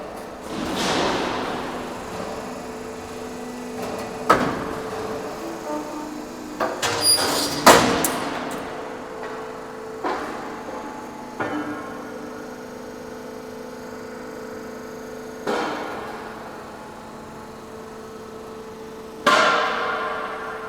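A 4mm CZU purlin roll forming machine runs with a steady mechanical drone from its side rollers, broken by several loud metallic clanks and thumps at irregular intervals, heard close and without talk.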